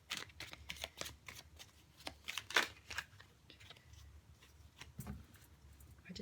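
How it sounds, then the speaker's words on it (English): Tarot cards being shuffled by hand during a reading, a run of quick papery riffles and flicks in irregular bursts, close and fairly soft, with no voices over them. "I just need to give them a bit of a shuffle."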